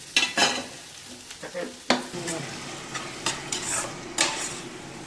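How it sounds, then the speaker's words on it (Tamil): Tomatoes sautéing in a pan for tomato rice, a soft sizzle broken by sharp, repeated scrapes and clinks of a spoon stirring against the pan, close and alone. "நல்லா தக்காளி வதங்கிருச்சு"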